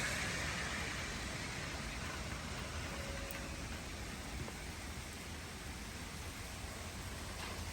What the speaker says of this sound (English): So this is a mild needed rain.